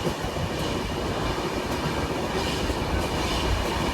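The Kerala Express passenger train runs on rails near Itarsi, a loud, unbroken rumble of wheels and carriages heard from aboard, with faint clatter and no talk.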